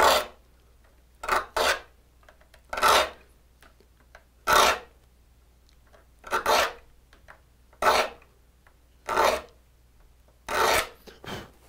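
A rip saw's teeth being sharpened with a file, heard as about ten distinct rasping strokes at a steady, unhurried rhythm, each a short bright scrape separated by quiet pauses, close and fairly loud with no talking.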